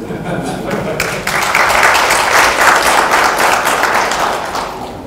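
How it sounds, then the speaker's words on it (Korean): An audience at a business leadership forum lecture breaks into sustained applause, a dense wash of many hands clapping that swells after the first second and holds steady, loud and fairly close. "이제 박수를 하고"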